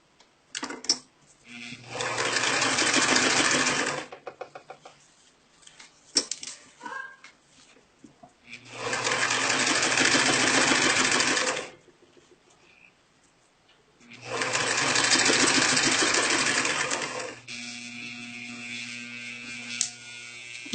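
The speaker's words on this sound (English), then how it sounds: "So the needle is stitching right behind the back of the coil." A sewing machine stitches an invisible zipper in three loud, steady whirring bursts of a few seconds each, separated by quieter pauses with small clicks and handling of fabric.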